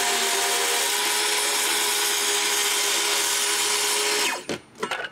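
A power saw makes a plunge cut into wood for a raised garden bed: a loud, steady whine runs for about four seconds and then stops, followed by a few short rattling knocks as the blade winds down.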